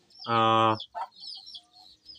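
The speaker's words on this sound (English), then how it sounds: "That is a chicken that has entered in the house" A chicken that has wandered inside a house clucks loudly in one sustained, harmonic squawk, followed by a short softer cluck and faint background noise.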